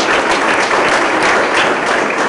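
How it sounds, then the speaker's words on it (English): Steady, dense applause from a welcome reception crowd for a university athletics director, loud and close, sustained throughout without a break. "how about a round of applause?"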